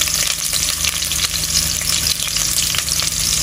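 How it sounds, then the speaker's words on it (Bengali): Onions frying in hot oil for a bitter gourd and shrimp curry, a loud, dense, continuous close-up sizzle with stirring scrapes and no talk. "পেঁয়াজ দেওয়া হইতে আছে তেলের মধ্যে"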